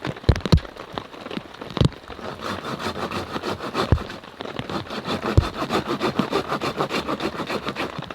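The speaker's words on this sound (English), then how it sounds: "This is an arborist saw." A Silky Zubat arborist pruning saw cuts through firewood at a snowy winter campsite, giving steady rhythmic rasping strokes up close, with a few sharper knocks early on and a patter like rain or snow in the background.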